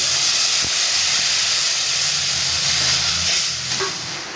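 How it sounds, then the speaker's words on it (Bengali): Water poured into a pan of well-fried spice masala with tomato for a fish curry, giving a loud continuous sizzle and hiss of steam that eases slightly toward the end. "মশলাটা আমি খুব ভালো করে কষিয়ে নিয়েছি। এবার জল ঢেলে দিচ্ছি।"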